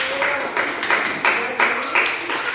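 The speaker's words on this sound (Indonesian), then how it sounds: "tepuk tangan buat kelompok 2" A classroom group of students gives rhythmic applause, with claps arriving in regular bursts about three times a second, fairly close and steady throughout.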